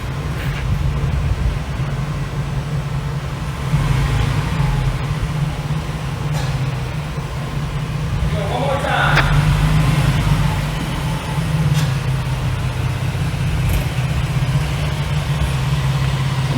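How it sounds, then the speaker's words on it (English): A 15-passenger van's engine running at a low, steady idle while it backs up, a constant rumble with a slight rise partway through and no talking. "So I'm going to back up real quick, and then I will show you guys how to do that."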